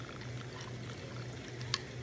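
Blue Sea liquor pours into a cocktail glass over ice in a steady, quiet trickle lasting a couple of seconds, ending with a faint clink.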